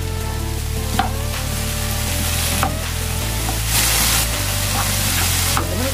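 Mixed vegetable fried rice with beans stir-fries in oil in a pan, a steady loud sizzle with clacks and scrapes of a utensil stirring, no talking.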